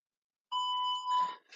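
A workout interval timer sounds a single sustained electronic beep of about a second, clear and alone against silence, followed by a short trailing tone.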